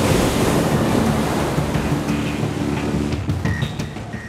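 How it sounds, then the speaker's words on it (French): Fast-moving water in a New York harbor bay churns and swirls around rocks, a loud, steady roar of surf and rushing water with wind buffeting the microphone, easing slightly toward the end as faint higher tones appear. "On doit faire face au mouvement rapide de l'eau. Elle ne va pas que dans une seule direction, elle fait des va-et-vient, elle tourbillonne autour des rochers"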